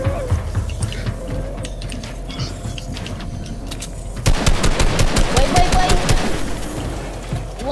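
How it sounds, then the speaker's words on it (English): Fortnite gunfire as a rapid automatic burst rattles out in a sharp, evenly spaced string over game background noise, with a voice talking during the firing. "you see how he shoot me through the wall?"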